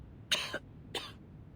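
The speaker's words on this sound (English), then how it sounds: "And now I cough and splutter just like it does." A character in the video game Reverse: 1999 coughs twice, two short, harsh bursts about half a second apart, close and clear over a quiet background.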